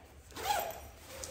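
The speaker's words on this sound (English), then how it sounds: "So you just unzip," A fabric zipper on a Colugo stroller cozy is pulled open in one quick, close, soft zip.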